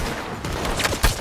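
Gunfire in Red Dead Redemption 2, a burst of several rapid shots ending in one sharper, louder crack, heard close over a dense game soundscape.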